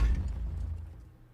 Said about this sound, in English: a big, chunky end sound for when Styanax comes down from the air and lands